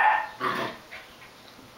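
A seven-week-old Belgian shepherd puppy growls close by in a few short, rough bursts, loudest at the start and then trailing off into quieter rumbles.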